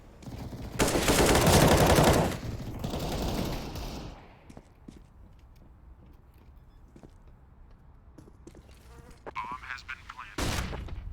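Pistol gunfire in a round of a competitive esports shooter, a loud, dense burst of rapid shots over the first few seconds, then quieter scattered game sounds and a final sharp burst near the end.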